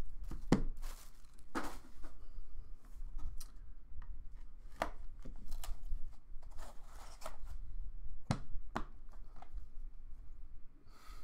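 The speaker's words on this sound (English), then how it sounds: "Real easy to cut these boxes." A blade slicing through cardboard box packaging in quick, scratchy strokes and tearing bursts, close up, with a few soft thuds between cuts and no talking.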